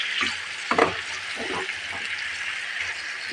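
Radish stir-fried in a pan makes a moderate hiss with a few scraping stirs near the start, the loudest in the first second, then settles into an even sizzle.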